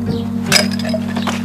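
Glasses clinking together in a toast aboard a yacht, a single bright clink over a steady low background hum, no talk.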